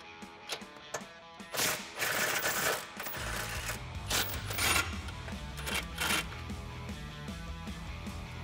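Ratchet with an 18 mm deep socket loosens front bumper nuts on a Jeep Wrangler JL frame horn; close, irregular clicking ratchet bursts with a low rumble underneath, no talking.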